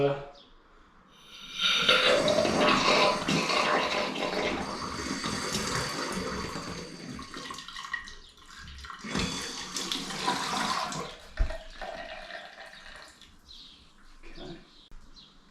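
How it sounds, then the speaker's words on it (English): Water runs from a newly plumbed tap during a bathroom renovation, a steady rushing flow that swells and dips in strength, then stops and leaves quiet clinks near the end. "So I'm going to turn the water on now and just make sure there's no drips anywhere."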